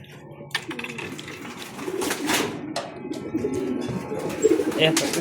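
Homing pigeons coo and flutter nearby amid a busy rustle of wings and scraping as they return to the loft, while a person talks briefly under the bird sounds.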